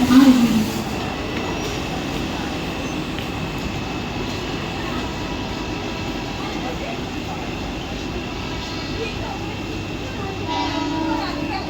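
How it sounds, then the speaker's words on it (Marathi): Slow local train bound for Kalyan arriving at platform 1 of a station, a steady rumble with a faint horn, heard mid-distance under general station noise. "कल्याणला जाणारी धीमी लोकल थोड्याच वेळा प्लॅटफॉर्म क्रमांक 1 पर येत आहे।"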